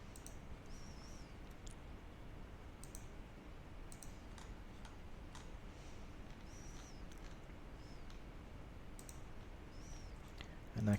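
Computer mouse clicking while using an admin panel app, scattered light sharp clicks at irregular intervals, close and faint over a steady background hiss.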